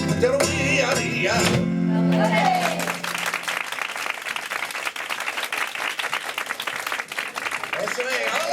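Audience at a flamenco tablao performing sevillanas, with music and singing at first giving way to sustained, lively clapping and crowd noise that carries on loudly to the end.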